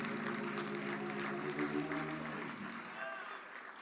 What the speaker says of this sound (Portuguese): E você pode aplaudir mais uma vez em nome de Jesus.